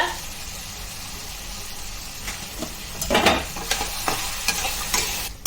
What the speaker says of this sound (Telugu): మధ్యలో కలుపుకోవాలండి, లేకపోతే అడుగు పట్టేస్తుంది